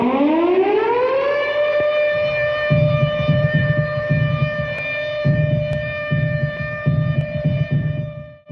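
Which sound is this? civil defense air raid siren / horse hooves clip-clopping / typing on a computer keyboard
civil defense air raid siren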